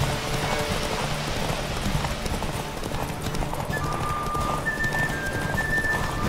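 Rapid rhythmic hoofbeats of a galloping horse in the video game The Witcher 3 during a horse race, steady and close, with a faint whistling tone entering partway through.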